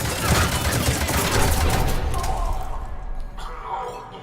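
A starship cannon volley in Mass Effect 3 pounds its target in a dense roll of booming impacts that fades toward the end, loud and close, with no talk over it.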